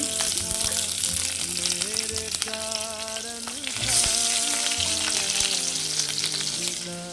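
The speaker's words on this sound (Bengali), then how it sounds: "কড়াইয়ের মধ্যে পেঁয়াজ দিয়ে দিচ্ছি" Onions sizzle and crackle in hot oil in a wok, a bright, steady frying hiss that swells midway. Background music plays faintly throughout.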